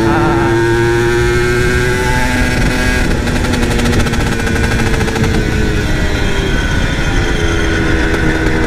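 Yamaha TZM two-stroke motorcycle engine revving loud and close, pitch climbing and dropping as it shifts through the gears, buzzing continuously throughout.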